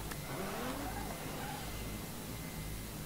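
Steady engine roar of a rally car accelerating in the video game Dirt 3, with a rising whine and faint tire noise, fairly loud and continuous throughout.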